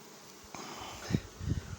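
A huge honeybee swarm occupying a Dadant hive with five supers: a soft, steady buzz close by, with a few individual bees droning louder as they pass near, and no voices.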